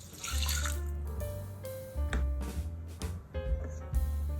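About 190 ml of water poured into a rice cooker pot over rinsed rice, a close gurgling splash with bubbling, ringing tones that change as the pot fills, lasting a few seconds.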